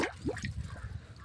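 Water pours down from a supply system into a tank, a brief close splashing trickle with gurgling pulses.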